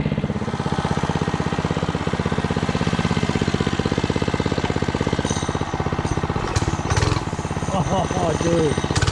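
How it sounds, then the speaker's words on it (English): A 105cc mini bike engine runs loud and close with a steady, rapid putter and a slight rev dip near the end, as brief talk and other noises come through over it. "It's just the motor of this thing."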